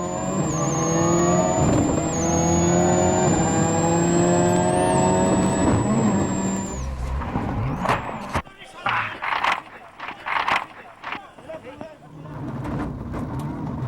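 A 2002 Ford Focus WRC rally car on a stage of the ADAC Rallye Deutschland, its engine howling loud and close with rising revs, then cutting to rough crashing and scraping thuds and bangs, with a commentator speaking over it.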